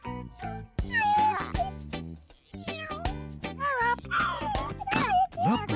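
A cartoon cat meows repeatedly in short, bright, rising and falling calls, loud and close. A child-like voice talks in between the meows.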